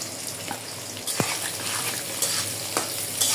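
Chopped garlic and onion fry in oil with bay leaf and cardamom, a loud continuous sizzle close by, broken by a few stirring scrapes and clinks against the pan.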